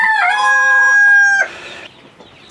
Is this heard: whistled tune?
no